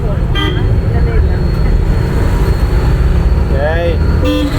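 Steady road traffic noise surrounds a driving-school car, with passing vehicles and a couple of brief horn toots breaking through; people talk throughout.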